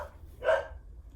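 A dog gives a single short bark in a home at night, a brief mid-level burst standing out over low background hum.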